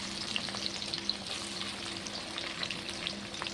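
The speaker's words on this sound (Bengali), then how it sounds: "এবার এর মধ্যে পেঁয়াজ আর টমেটো যেটা কেটে রেখেছিলাম সেটা দিয়ে দেবো।" Chopped onions and tomatoes frying in a pan for an omelette curry, a steady close sizzle with crackling pops and a soft stirring scrape, and no voices.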